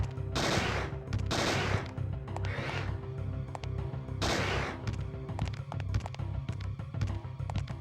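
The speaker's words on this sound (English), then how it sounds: "We can just pump in a million bullets." Bursts of rapid gunfire from the PlayStation game Parasite Eve 2, several loud volleys of repeated shots over a steady low rumbling game soundtrack, with brief pauses between bursts.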